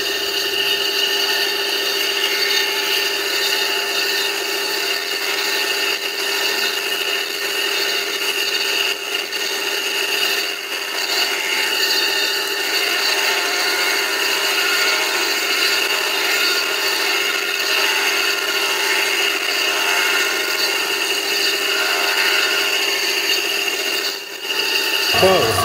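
A 4 mm end mill cuts about 2.3 mm deep into a mains water pump motor shaft, giving a continuous, fairly loud grinding and whirring hum of machining that holds steady, with a brief dip near the end.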